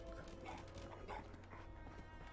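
A dog in the Fallout 4 video game growling, a low, rough, continuous rumble with small whimpering accents, close and steady across the whole clip under game background noise.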